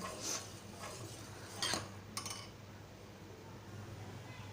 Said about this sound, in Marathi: आता अर्धा लिटरचं दूध ते पाव लिटर होईपर्यंत आपल्याला असं चमच्याने सतत घोटवत राहायचं आहे